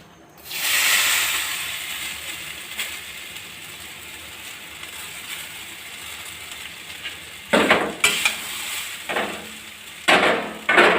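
Chow mein noodles drop into a hot pan and set off a loud, steady sizzle that fills the clip, broken near the end by several sharp scraping bursts as they are stirred.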